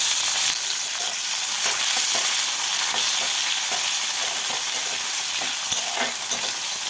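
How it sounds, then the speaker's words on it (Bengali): Chopped onion and green chili frying in oil in a wok while being stirred, a steady close sizzle with scraping strokes of a spatula throughout, no voices. "তারপরে পেঁয়াজ কাঁচা লঙ্কা কুচিটা আমি দিয়ে দিলাম।"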